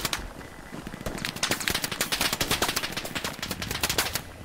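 Machine gun fire in a video game: rapid, evenly spaced shots in sustained bursts, loud and close, building after a quieter opening and running almost to the end.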